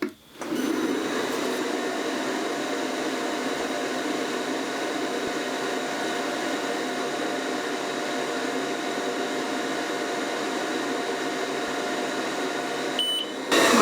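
A laser engraver runs while engraving a patch, giving a steady, even hum and whine from start to end with a faint beep at the finish, close and alone.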